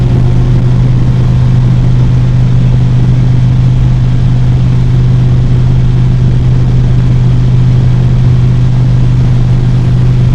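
A Harley-Davidson Road Glide motorcycle on the road gives a constant, loud low engine drone with a steady exhaust rumble and no obvious shifts in pace.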